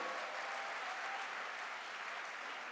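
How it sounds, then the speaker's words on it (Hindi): An audience at a promotion celebration event claps together in a steady, dense burst of applause, continuous and even throughout, with no speech over it. "तो जोरदार तालियां एक बार बजाइए।"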